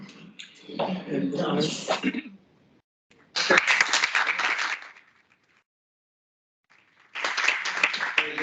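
Short bursts of audience applause at a conference session, two dense spells of clapping separated by silence, with a voice speaking before them.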